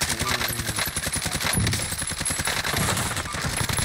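Sustained automatic gunfire in a first-person shooter game, a dense, close rapid stream of shots that runs for the whole stretch without a break.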